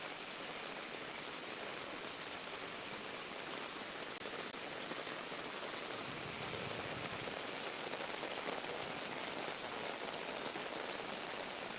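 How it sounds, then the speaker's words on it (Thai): Steady, dense downpour of heavy rain during flooding in Nong Chik, Pattani, Thailand, a continuous loud hiss of drops on surfaces with no voices, unbroken for the whole stretch. "ตอนนี้ฝนก็ตกลงมาอย่างหนักนะคะ"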